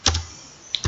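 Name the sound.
computer keyboard typing code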